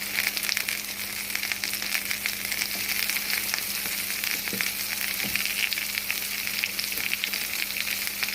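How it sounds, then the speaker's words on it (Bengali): Capsicum frying in melted butter across a hot griddle pan, a steady dense sizzle throughout with a few soft stirring scrapes and no talk. "প্রথমে আমি ক্যাপসিকামটা বাটার ফ্রাই করে নেব"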